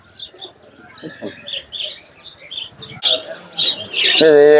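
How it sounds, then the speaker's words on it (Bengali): Pigeons at a Nayabati pigeon market coo and chirp nearby in short bursts, with a voice talking over them and a louder flutter of calls at the end. "এই যে কোক কোক করে ডাকে"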